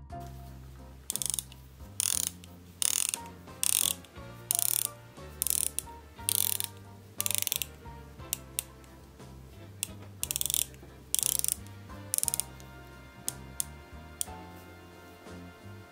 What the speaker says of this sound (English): The bezel action is clicky and solid